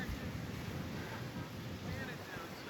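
Ocean surf at a Florida beach near Lauderdale-by-the-Sea, a steady broadband wash of waves mixed with wind buffeting the microphone, with no clear voices.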